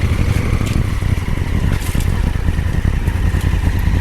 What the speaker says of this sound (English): give it a little push forward, push on the back of the handlebars, and very, very gentle throttle